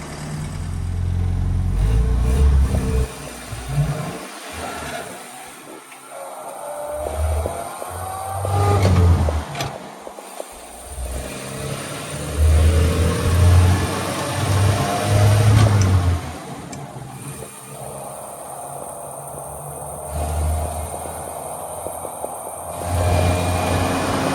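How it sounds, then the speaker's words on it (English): A 1964 Land Rover Series IIA engine rumbles steadily while driving on an open road, its revs rising and falling through gear changes, loud and close with road noise throughout. "Driving the Land Rover down the open road here"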